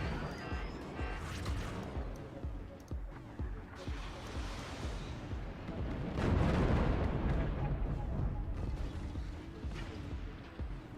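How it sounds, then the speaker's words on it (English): Flak cannons fire repeatedly in the strategy game Forts, booming blasts and rumbling explosions rolling across the battle, with a commentator talking throughout. "And the flak fires, the flak defends"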